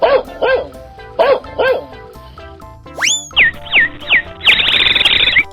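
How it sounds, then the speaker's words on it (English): A dog in a 3D animal slide video game barks in four quick paired woofs. Springy boing effects and a noisy cartoon flourish follow close up. "dog,"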